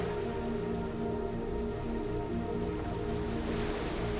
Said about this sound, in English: It becomes heavy with rain and begins to pour down a warm and gentle storm